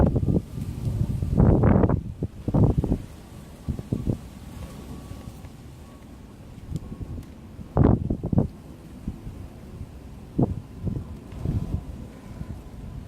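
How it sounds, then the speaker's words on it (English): Wind blows across a lake shore sheltered by trees, a soft continuous rush with gusty rustling and occasional louder buffets against the microphone, with no talking. "It is a bit breezy though."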